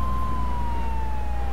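Ambulance sirens in the video game GTA 3, a steady wailing tone that holds loud and continuous throughout over a dense rumble of city traffic, with no voices.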